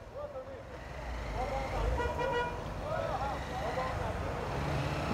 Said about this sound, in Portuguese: E nós estamos aqui tentando sair desse engarrafamento